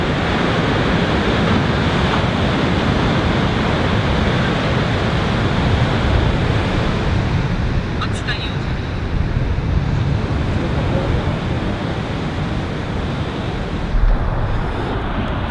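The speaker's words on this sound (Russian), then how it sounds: "Și valuri, serios." Pacific Ocean waves breaking on a California shore, a continuous loud roar of surf mixed with wind buffeting the microphone, with no speech.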